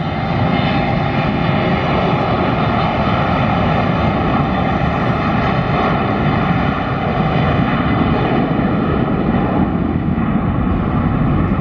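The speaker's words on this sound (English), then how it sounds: "sound of the engine spooling up and the buzzsaw sound" A loud, steady roar of aircraft engines at full power, with a buzzing whine layered in, continuous and close for the whole stretch.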